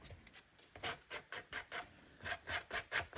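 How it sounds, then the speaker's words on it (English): Sandpaper rubbed over the wooden base of a thrifted furniture piece to distress its edges, a series of about a dozen close, rhythmic rasping strokes heard alone. "take a little bit of sandpaper"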